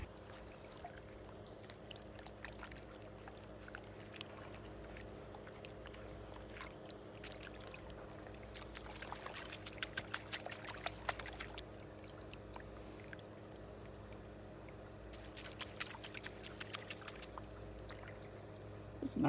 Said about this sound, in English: Let me pan this out real quick.